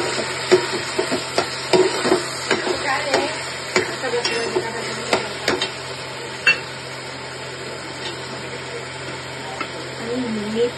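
Tomatoes going into reddened onions frying in a pan for chole gravy, a soft sizzle with scattered clacks and scrapes of stirring under a steady background hum.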